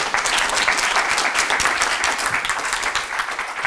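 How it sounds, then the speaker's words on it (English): An audience at a medical talk breaks into sustained applause, a dense, even wash of many hands clapping close by with no pause. "A round of applause for Ben, please."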